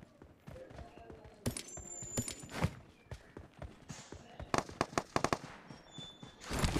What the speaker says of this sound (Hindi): फायरिंग का साउंड, फायरिंग कर रहा है, यूएमपी है, यूएमपी